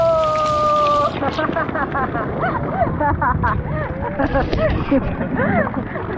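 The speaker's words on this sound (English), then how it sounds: "Here comes some more waterfalls." Waterfalls splashing into a resort lazy river at the Signia by Hilton Bonnet Creek, a loud rushing wash of falling water with voices calling out over it.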